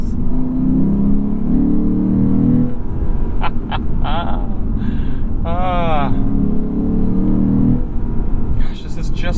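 The V8 engine of a 2023 Lexus RC F drones loudly from inside the cabin, swelling and dropping in pitch as paddle shifts interrupt the acceleration, with a voice speaking over it.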